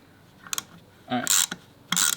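Ratchet clicking in short, sharp bursts as it tightens the air filter bolt on a Harley-Davidson Iron 1200 motorcycle, close up, with a faint clunk or two between the runs.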